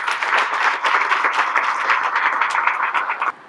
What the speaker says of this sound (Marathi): मी एकदा जोरात टाळ्या व्हायला पाहिजे।